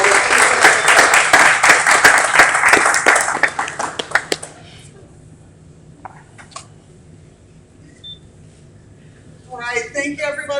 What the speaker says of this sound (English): Let's give Ms. Emma a round of applause as well